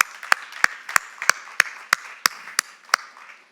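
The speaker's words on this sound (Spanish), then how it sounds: "yo estaría dándole un aplauso al Señor" Rhythmic clapping in a church service, about ten sharp evenly spaced claps at a steady beat, close and clear with no voices over them.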